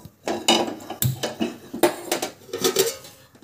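A kadhai is set on a gas stove with several sharp metallic clanks and knocks, close and irregular, followed by lighter clatter as it settles.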